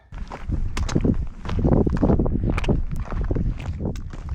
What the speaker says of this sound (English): The wind is a lot stronger than I expected.